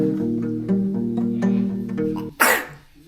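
A sudden, sharp sneeze bursts out near the end, loud and close, following a steady droning hum of background music.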